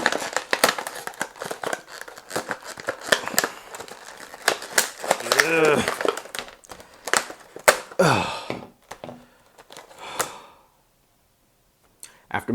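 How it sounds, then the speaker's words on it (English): Plastic toy packaging from a toy store is cut open by hand, with sharp snips, crinkling and crackling in irregular bursts up close, mixed with people talking before it falls quiet. "you have to cut around the package"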